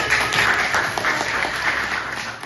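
A class of schoolchildren clapping hands together in a classroom, a steady dense patter of many small hands sustained throughout at moderate level, with no talking over it.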